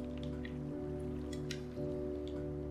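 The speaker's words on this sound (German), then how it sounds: "Ich höre doch da irgendwo Wasser." In Minecraft, water drips softly, with scattered small drops falling irregularly over a steady droning hum of game ambience.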